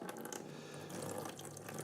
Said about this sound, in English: all I'm going to do is pour this water out